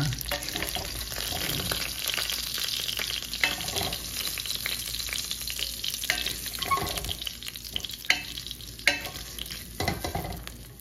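Chicken pieces fry in a Saladmaster pan, making a continuous soft sizzle. Scattered scrapes and sharp clinks from turning the meat over are heard up close, with no talking.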